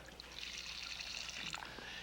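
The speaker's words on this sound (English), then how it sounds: "put in about, a quarter of an inch of water." Water is poured into a pan of scrubbed clams, a quarter inch deep, in a home-style cooking setting: a soft, steady trickle and splash heard faintly and up close for about two seconds.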